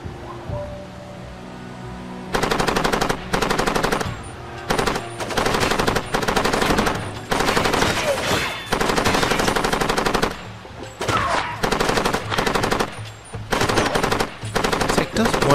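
Light machine gun fire in the Far Cry 2 video game comes in loud sustained bursts separated by short pauses, beginning after a quieter opening stretch.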